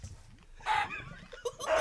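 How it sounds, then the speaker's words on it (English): Chicken clucking in the Minecraft video game, a few short faint game-sound clucks in quick bursts over a low background hum, with no talking. "It's not a duck, mate, it's a chicken."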